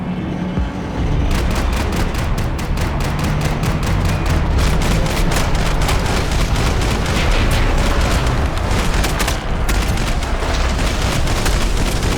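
Gunfire in the video game Max Payne 3, dense rapid bursts of automatic shots and booming reports filling the scene loudly and almost without a break.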